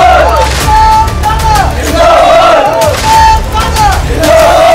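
A large crowd roars and chants through a night campaign walkabout for Narottam Mishra in Datia's narrow lanes, loud and close, with rising shouts, whistles and bursts of cheering layered over continuous crowd noise.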